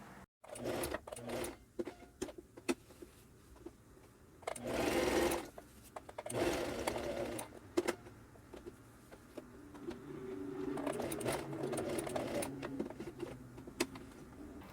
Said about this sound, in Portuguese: vou passar a costura reto, depois seguir na lateral aqui da peça e reto de novo